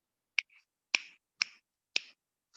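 Audience finger snaps applauding a winner at a youth closing ceremony, four sharp clustered snaps spaced about half a second apart, close and clear with no talk.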